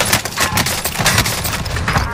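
Warzone shotgun blasts going off in quick succession, several loud, close, rough bangs packed into two seconds amid other game noise.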